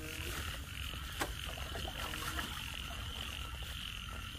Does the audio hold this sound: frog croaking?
yes